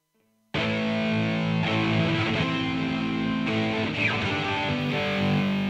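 A Soviet-made Simal rock electric guitar rings out alone with distorted, sustained chords after a brief silent start. The tone is loud, thick and overdriven, with a new strum arriving every second or so.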